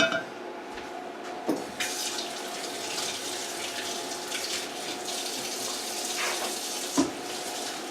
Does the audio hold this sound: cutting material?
no